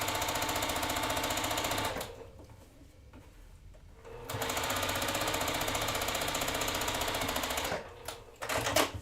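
A sewing machine runs at full speed stitching through a pinned seam allowance in quilt block piecing, a fast steady mechanical chatter that pauses for about two seconds, resumes, then slows and stops near the end.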